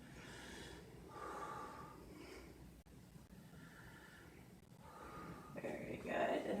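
A patient taking deep breaths during a lung examination, a few soft, airy inhales and exhales close by with rustling in between, the last breath loudest.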